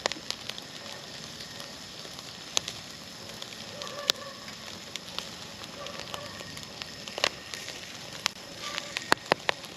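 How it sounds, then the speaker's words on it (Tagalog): A campfire at a resort campsite burns with a steady soft hiss, broken by scattered sharp pops and crackles throughout, heard fairly close. "Para malakas ang apoy."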